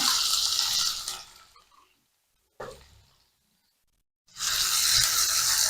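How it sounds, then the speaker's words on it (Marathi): Finely chopped onion sizzles loudly in hot oil with cumin, a bright close hiss cut off by two silent gaps before the sizzling returns at full strength. "कांदा आपल्याला व्यवस्थित परतवून घ्यायचा आहे"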